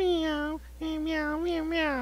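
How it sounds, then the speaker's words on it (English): A pet cat meows repeatedly, close and fairly loud: one long drawn-out cry, a brief pause, then several more meows in quick succession. "this is my kitty."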